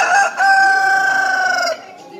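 A single loud, close rooster crow, a long drawn-out call lasting under two seconds, followed by quiet.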